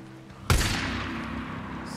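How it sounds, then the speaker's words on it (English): A single loud gunshot cracks out in the Days Gone video game, hitting sharply and then ringing into a long fading echo with no talk over it. "And now I hear gunfire."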